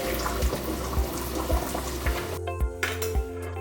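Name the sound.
draining cooked jumbo pasta shells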